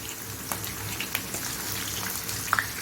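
Onions sautéing in oil for chicken jalfrezi, a close, continuous crackling sizzle with scattered small pops and spatters.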